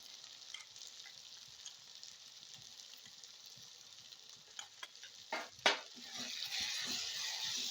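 Ginger-garlic paste and finely chopped coriander stems fry in a pan for restaurant-style pav bhaji, a steady broadband sizzle running throughout, with a few sharp scraping clicks of stirring near the end as the frying swells louder.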